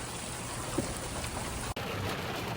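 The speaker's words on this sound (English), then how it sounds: "Hailing. Again." Hail pelts down on a surface in Iran, a dense, even patter that stays constant, close by and fairly loud, with a brief dropout just past the middle.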